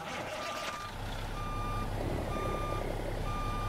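A truck in the American Truck Simulator video game backs up, its reversing alarm sounding a steady, evenly spaced series of beeps over a low engine hum.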